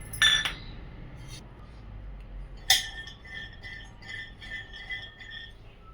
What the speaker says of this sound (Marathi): अर्धी वाटी शेंगदाणे आपण भाजण्यासाठी टाकून घेऊया